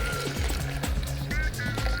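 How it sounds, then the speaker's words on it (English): Almond milk is poured back into a blender, a close, continuous liquid gurgle and trickle lasting a couple of seconds. "after we've got the almond milk, I'm gonna pour it back into the blender"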